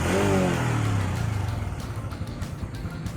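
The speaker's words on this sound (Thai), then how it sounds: "เรื่องของ ท่อไอเสียที่ให้เสียงค่อนข้างจะนุ่มหูเลยครับเสียงเบามากๆครับ" A 2023 Honda All New Wave 125i motorcycle engine revs up through its quiet, soft-toned exhaust, rising briefly then settling into a low, steady putter nearby.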